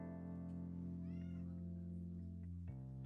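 A cat meows once, softly and briefly, over a loud steady background hum.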